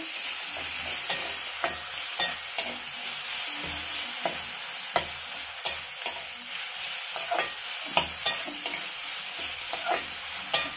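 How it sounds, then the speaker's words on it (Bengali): Ghatkol leaves frying with turmeric in a pan, a steady close sizzle broken by regular scraping clatters of a ladle stirring, with no talking. "আর দেবো হলুদ। ভালো করে ভেজে নিতে হবে।"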